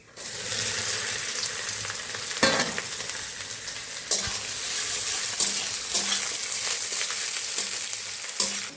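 Carrots and beans fry with whole cardamom, cinnamon and cloves in a kadai, a constant sizzle broken by sharp spatula scrapes and stirring knocks throughout.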